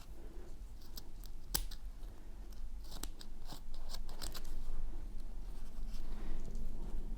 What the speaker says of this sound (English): And then I can trim that excess.